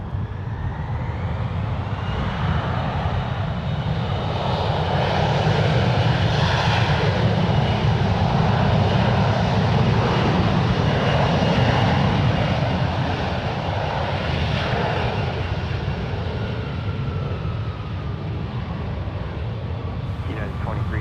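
A United Boeing 737-800 airliner takes off from runway 1 right at San Francisco International, its jet engines a loud, sustained roar that swells and holds steady throughout, with a voice faintly present beneath.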